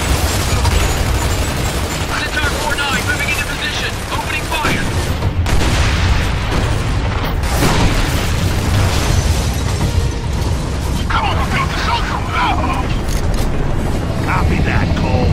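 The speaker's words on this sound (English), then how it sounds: "under heavy fire from our left flank." Heavy gunfire and explosions in the Gears of War 2 video game, a dense and loud continuous battle with booms and rattling shots throughout, with voices talking over the din.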